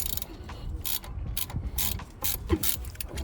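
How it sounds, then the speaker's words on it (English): A ratchet fitted with a 7 mm Allen key bit loosens brake caliper bolts on a 2013 Ford Focus ST-2, producing close, rapid pawl clicks in short bursts with brief pauses between strokes. "So we're going to use a 7 Allen key bit, just get it on our socket over here"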